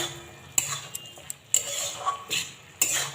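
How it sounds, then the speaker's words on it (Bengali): Spinach being mixed with a little raw mustard oil and chopped coriander in a pan, giving a few sharp utensil clicks and scrapes against the metal between quieter stirring, close and fairly soft with no talk. "একটু কাঁচা সর্ষের তেল দিলাম অল্প এবার এটা মিশিয়ে নেব ভালো করে"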